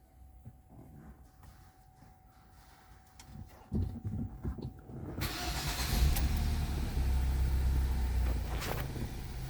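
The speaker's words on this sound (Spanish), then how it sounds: "vamos a poner en marcha el vehículo" A Ford Focus 3 ST engine cranks and fires up after a quiet stretch with faint clicks, then settles into a steady, close idle rumble.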